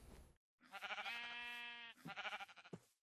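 Sheep in the Minecraft video game bleating close and clear, one short bleat followed by a long wavering baa and a few quicker trailing bleats, with no talk.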